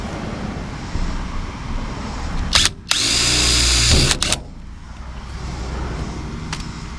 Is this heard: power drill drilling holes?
yes